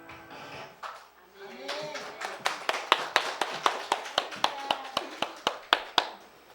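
A church congregation clapping together in a steady rhythmic beat, starting loosely and settling into sharp, even claps about three per second, with a voice briefly heard at the start.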